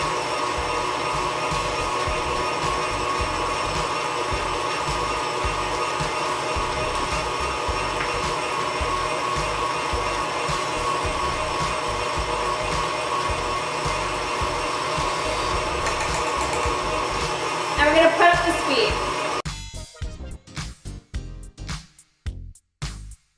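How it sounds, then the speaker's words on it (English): An electric stand mixer beats chocolate chip cookie dough with a steady loud whirring drone for most of the stretch, then the motor cuts out and slows into uneven rattling pulses. "bring the mixer down to low speed and we're gonna add our dry ingredients"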